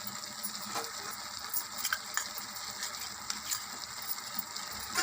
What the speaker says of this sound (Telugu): వేసి మొత్తం ఒకసారి కలుపుకుందామండి.